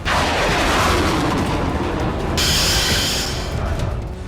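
Chinese PLA ballistic missiles launching with explosive fire, a loud continuous roaring blast that rumbles on without a break for several seconds, close and powerful with no talking.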